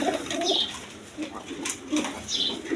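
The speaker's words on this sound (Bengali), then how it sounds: "এখানে এক পেয়ার লোটন কবুতর আছে ইন্ডিয়ান লোটন কবুতর" A pair of Indian Lotan pigeons, a red male and a female, coo in soft repeated bursts close by, with quiet gaps between calls and no talking.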